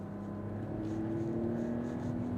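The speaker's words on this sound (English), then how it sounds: "you can keep in higher revs, and this thing really pulls" A 2024 Mercedes GLS SUV, held in manual shift mode with paddle shifters, pulls at high revs from inside the cabin, a steady strained engine hum with a rising tone over road noise.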